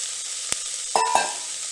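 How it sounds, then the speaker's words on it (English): Onions sauté in hot olive oil inside an Instant Pot for butternut squash soup, giving a steady, close sizzle with a couple of sharp clacks from stirring partway through. "Go ahead and add in your onions. I'm going to start to saute those out"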